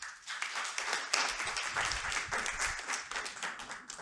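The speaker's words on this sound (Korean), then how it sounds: "박수로 맞이해 주시기 바랍니다" Applause from a seminar audience of university presidents as a Busan economic vice mayor is welcomed to the podium, dense sustained clapping filling the whole stretch, loud and steady with no talk over it.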